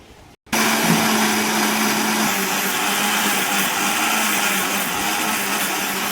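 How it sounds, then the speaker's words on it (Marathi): An electric mixer grinder whirs loud and steady while grinding peanut masala with a little water into a fine paste. The motor starts abruptly after a brief quiet moment and holds a constant drone, close up and alone. "थोडंसं पाणी टाकून मस्त मिक्सरातून काढून घ्यायचं. बारीक पेस्ट बनवून घेऊ."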